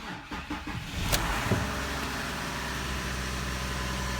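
A used car from Libya with a tired battery turns over with a few cranking pulses and catches, then settles into a close, steady idle hum.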